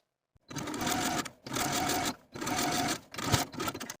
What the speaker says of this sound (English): edge stitch close to that inner fold all the way around